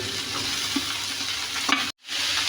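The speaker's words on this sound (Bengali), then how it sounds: "মরিচ পেঁয়াজ কুচি দিয়ে দিব ভেজে নিব টমেটো কুচিগুলি দিয়ে দিব" Chopped green tomatoes with chilli and onion fry in a pan, a steady sizzle with scraping stirs, closely heard and uninterrupted by voices, with a brief cut near the end.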